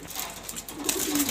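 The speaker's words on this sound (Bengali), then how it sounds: "ওই যে এটা মাদি কবুতর, এটা নর কবুতর" Pigeons, male and female kept together, give a short soft coo nearby, a brief low murmuring call over light background noise.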